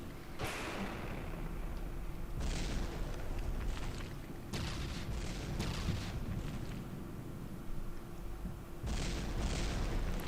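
Repeated booming shots from a 10 centimeter cannon in From The Depths, firing at a quick steady rate in bursts of several rounds, loud and close over a constant low rumble.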